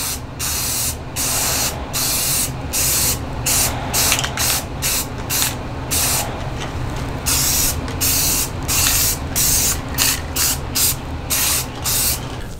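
Repeated bursts of spray paint hiss as truck camper tie-down parts get coats of paint, short sprays in a steady on-off rhythm, close and loud with no talking.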